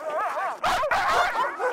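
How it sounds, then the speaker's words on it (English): A team of sixteen eager sled dogs in the Canadian Arctic yip, whimper and bark in quick, overlapping bursts, close and loud. "Getting 16 hyperactive, ready-to-run dogs to sit still is nearly impossible."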